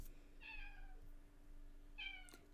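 A cat meows twice in the background during work on a coding project, two separate drawn-out cries about a second and a half apart over a steady low electrical hum.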